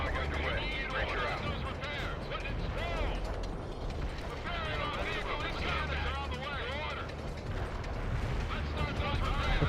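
Daisy cutter bombs and carpet bombing detonate in World in Conflict: Soviet Assault, a dense, continuous roar of heavy explosions and rumbling battlefield noise that stays loud throughout, with voices talking over the chaos.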